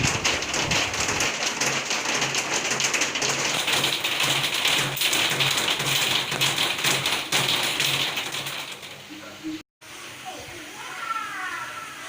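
Steady rain pours and patters on a surface at a market, a dense continuous hiss that runs nearly unbroken, with a voice talking over it before a brief cut near the end.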